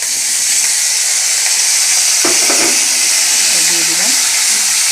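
Spice paste of garlic, onion, ginger and tomato with green chillies frying in a pan for a cauliflower roast, a steady close hiss and sizzle with a brief stirring scrape, while someone speaks briefly over it.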